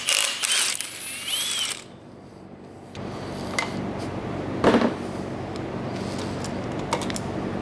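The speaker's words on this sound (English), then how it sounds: "Pull this crank pulley bolt." A ratchet works loose the crank pulley bolt on an LS V8 engine being built for a Miata, giving close, bright clicking bursts with short pauses and a few sharper metallic knocks between them, and no talking.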